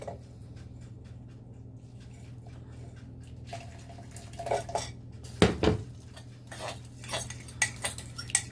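Water is taken from a cooking pan of ham with marinade and peaches: soft dripping and liquid movement, then clinks of a utensil against the pan and a few sharper metallic taps, close and otherwise quiet.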